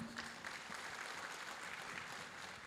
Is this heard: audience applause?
yes